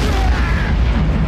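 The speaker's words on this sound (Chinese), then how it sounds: "啪啪啪啪，一阵热闹的连续爆炸声响起。" A dense string of explosions rumbles continuously, a loud, deep, booming roar with no clear gaps between blasts.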